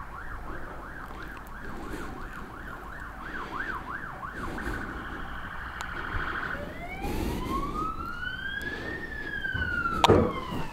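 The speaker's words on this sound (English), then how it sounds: "It's an ambulance, Reese." An ambulance siren passes outside an abandoned manor hotel, first a rapid warbling wail, then a long rising and falling two-tone sweep that grows louder and closer before a sharp knock near the end.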